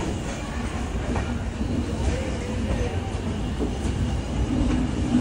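Goa Sampark Kranti Express rolling out of Panvel after departure, heard from inside the coach as a steady rumbling roar with faint rhythmic wheel clatter, continuous and moderately loud throughout.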